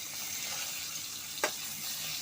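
Tilapia fish, rubbed with salt and turmeric, frying on a flat pan, giving a steady, soft broadband sizzle throughout with one brief sharper spit of hot oil midway.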